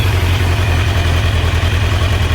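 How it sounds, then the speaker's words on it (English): Kawasaki GPZ900R motorcycle, a barn find with freshly balanced carburettors, idling with a loud, steady low rumble that holds without change, no talk. "I've just put them on the bike and now I'm going to start it."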